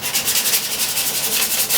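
Body filler being hand-sanded with sandpaper on a Technics unit, a steady close scratchy rubbing in quick back-and-forth strokes, continuous and fairly loud with no talk.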